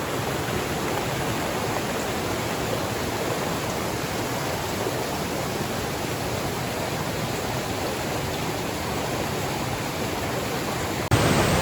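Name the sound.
river water during the seventh river crossing on a mountain trek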